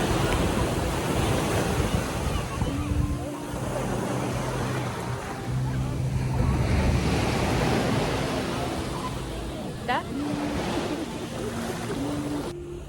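Sea waves wash steadily onto a beach in Ras Al Khaimah with a constant roar, mixed with gusty wind buffeting the microphone.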